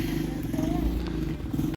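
A motorcycle rumbles low and steady on the way to the market, its engine close and continuous, with faint voices underneath.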